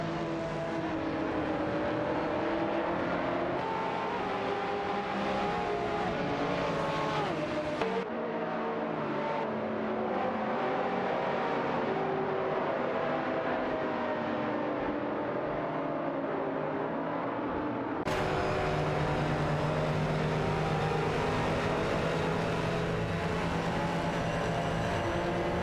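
Race cars, including a Jaguar XKR GT3, roar through a racing video game with continuous engine drone and shifting revs, and the sound changes abruptly partway through as the scene cuts.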